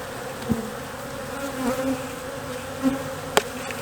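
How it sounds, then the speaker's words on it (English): Honey bees buzz around a newly placed hive, a steady low drone with a few louder close fly-bys and faint tapping, and no speech. "New location, new bees."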